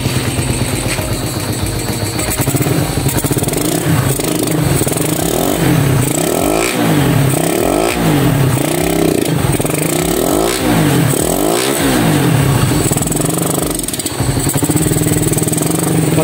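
A Raider 150 motorcycle fitted with a dome piston warming up, its engine close and loud, idling unevenly and revving in repeated rising and falling surges throughout.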